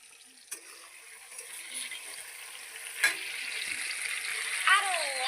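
Fish cooking in a pan with raw mustard paste, a soft steady hiss building gradually, with a few isolated clinks and a brief knock, fairly faint overall.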